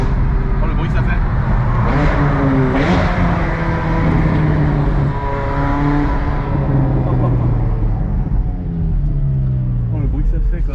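Ethanol-fuelled Audi R8 V10 of roughly 600 hp, its engine revving up and easing back in repeated loud sweeps, with steady rising and falling pitch and voices chatting underneath throughout.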